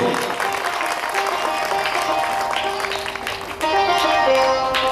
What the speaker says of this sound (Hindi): ताली बजाएं जोर से